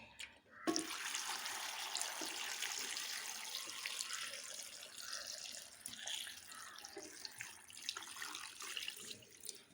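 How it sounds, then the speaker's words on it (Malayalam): Water pours steadily into a cooking pot holding unripe mango pieces, a continuous splashing gush that starts abruptly and runs close and loud for several seconds with no talk. "നമുക്കിത് വെള്ളം ഒഴിച്ച് വേവിച്ചെടുക്കാം. ഇതിനകത്ത് വെള്ളം ഒഴിക്കാം."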